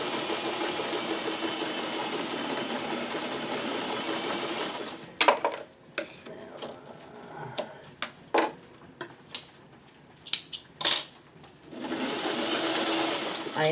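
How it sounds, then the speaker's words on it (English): A sewing machine stitches along a fabric piece in a steady, close whirring run, stops for a few seconds of small clicks and handling noises, then starts up again in another sustained stitching run. "I can see my stitch line and I can try to not stitch like right on it"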